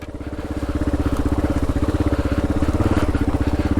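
Kawasaki KLR adventure motorcycle riding off-road, its single-cylinder engine thumping in a rapid, steady pulsing beat, loud and close, with no voices.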